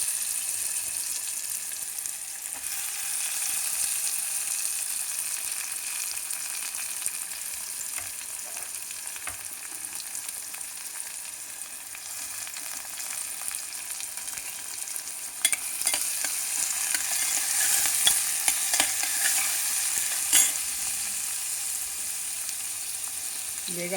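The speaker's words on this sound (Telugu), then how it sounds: "ఇది ముందుగా కుక్కర్ పెట్టి ఉల్లిపాయలు వేసుకుంటున్నాను. ఇది ఉల్లిపాయలు పచ్చిమిరపకాయలు అన్నమాట." Onions and green chillies frying in oil in a pressure cooker, a steady soft sizzle with occasional scraping stirs and brief crackling bursts near the end.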